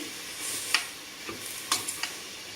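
Chunks of beef for a roast sizzle in a hot pressure cooker pot as they are turned, a steady close hiss broken by a few sharp clicks and scrapes.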